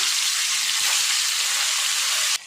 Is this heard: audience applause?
no